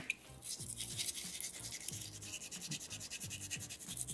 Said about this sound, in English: I'm just concentrating most of the grinding in that area right there